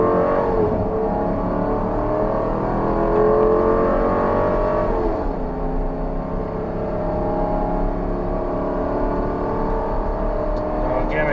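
A 2022 Jeep Grand Cherokee towing a travel trailer accelerates uphill, its engine droning close and steady for the whole stretch, its pitch climbing and dipping as it pulls, with voices talking over it.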